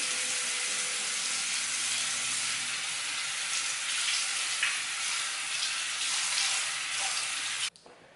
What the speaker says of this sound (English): So now I'm going to go ahead and rinse it off